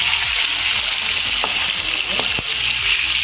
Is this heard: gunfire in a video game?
no